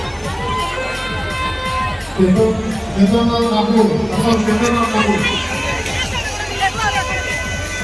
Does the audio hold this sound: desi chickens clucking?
no